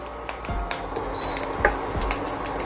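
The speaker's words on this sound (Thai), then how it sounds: "หลังจากนั้นผมก็ใส่พริกแห้งนะครับนำลงไปเจียวคั่วด้วย" Dried chilies fry in hot oil in a pan over gentle heat, a steady close sizzle with crackles and a few soft thumps of stirring, no speech.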